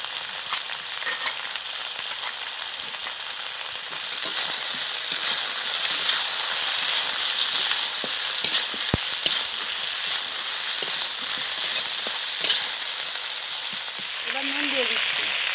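Garlic paste frying in a pan, a loud, dense hiss of sizzling oil running continuously, with occasional stirring clicks and scrapes nearby.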